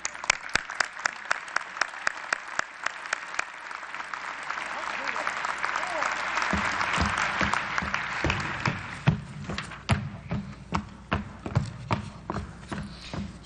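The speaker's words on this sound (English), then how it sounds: "Another round of applause for Eric and Arlette." Applause from a crowd at a state legislature swearing-in ceremony swells and fades, steady clapping throughout with a few sharper individual claps standing out near the end.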